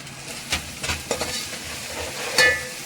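Masala stirred and sautéed in a pan with coriander and mint, low sizzling under a few sharp scraping stir strokes, close and moderate in level, with no talking.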